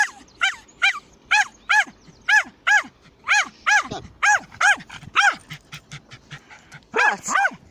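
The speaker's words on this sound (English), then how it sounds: "Stop barking." A dog barks repeatedly and loudly at close range during a morning walk on a marsh, sharp regular barks spaced about every half second, with a brief lull midway and a dense burst near the end.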